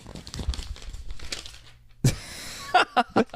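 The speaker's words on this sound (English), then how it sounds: "She takes a piece of paper and goes," Paper being crumpled by hand, a sudden sharp crackle followed by several short crinkling bursts, close and fairly quiet, coming after a stretch of talk.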